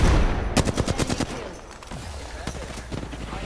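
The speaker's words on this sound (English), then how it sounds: "They're shooting on me." Loud rapid gunfire in Apex Legends, a quick rhythmic burst of automatic shots followed by scattered single cracks, with a voice talking over part of it.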